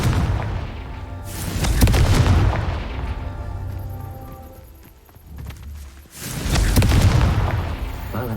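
A Confringo blasting curse in Hogwarts Legacy erupts in booming explosions, a loud blast early that rumbles and fades, then a second strong burst near the end, with faint game ambience between.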